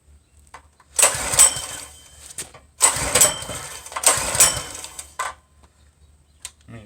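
Predator 212cc mini bike motor being started, three loud pull-start bursts of cranking that sputter without catching, with quiet gaps between attempts.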